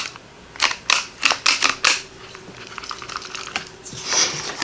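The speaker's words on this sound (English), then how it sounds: "I want to use the stub punch, and I want to punch around the corners of my card." A stub punch clipping the corners of a paper card, a run of about seven sharp clicks in quick succession, followed by quieter rustling and handling sounds.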